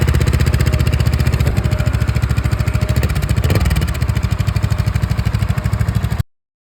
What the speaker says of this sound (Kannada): ಗಾಡಿ ಎಕ್ಸಾಸ್ಟ್ ನೋಟ್ ಔಟ್ಸೈಡಲ್ಲಿ ಈ ಥರ ಕೇಳಿಸುತ್ತೆ